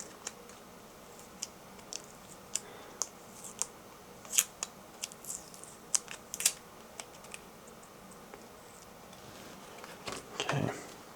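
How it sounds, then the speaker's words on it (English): Stickers being peeled off an HK MR556 rifle: scattered sharp ticks and crackles close by, ending in a longer rasping rip, with no talking. "Just taking off stickers."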